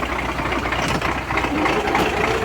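Vehicle engine running steadily while a car is towed on a tow hitch, a continuous broadband rumble with road noise, fairly loud and close, no voices.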